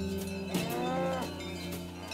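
Aubrac cattle herd, cows and young calves, on summer transhumance to high mountain pastures, one loud drawn-out moo close by over a steady background of the herd.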